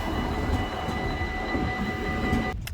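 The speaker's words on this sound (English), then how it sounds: "This is the train from Germany" A train from Germany rolls through Enschede station in the Netherlands, a loud continuous rumble of wheels and carriages close by with steady tonal hum, cutting off abruptly at the end.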